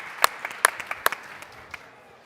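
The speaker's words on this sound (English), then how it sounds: "Round of applause for Anja." A handful of scattered, uneven claps from a small audience at the TechChill Riga tech conference in Riga, greeting panel speakers on stage; a few sharp hand claps stand out before fading, with no voices.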